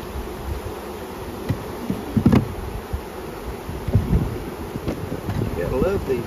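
Honey bee swarm during a spring swarm catch, a steady buzzing hum close by with wind noise on the microphone and scattered bumps, while a voice talks briefly.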